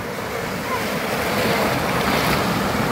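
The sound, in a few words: strong ocean waves crashing on rocky shore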